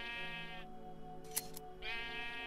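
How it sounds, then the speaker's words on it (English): Sheep in Minecraft bleating close and loud in two long wavering calls, separated by a brief sharp click. "I'm going to get a couple of sheep right here."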